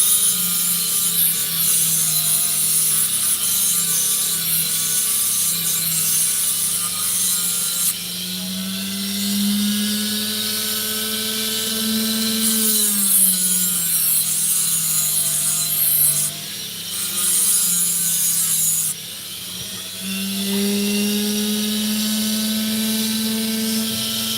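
An opal stone being trimmed on a lapidary cutting saw, with a steady whining, grinding drone whose pitch shifts up and down as the blade bites into the stone, running continuously and close.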